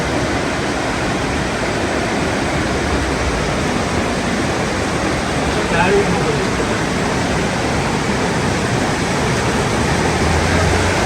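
Heavy rain mixed with hail pours down in Saudi Arabia, a dense, loud and unbroken hiss of falling water that keeps going throughout, with faint voices barely audible beneath.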